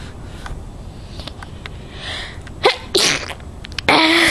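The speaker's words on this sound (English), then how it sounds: "I just sneezed." A person sneezes loudly and close by, with a sharp burst followed by a second strong sneeze near the end, against quiet indoor background.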